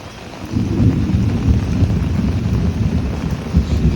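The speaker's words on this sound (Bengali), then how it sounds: "আকাশে বিদ্যুৎ চমকাচ্ছে কখন কি হয় জানি না" Steady rain falls around a village house on a stormy day, with low, rolling thunder rumbling underneath a constant wash of rainfall.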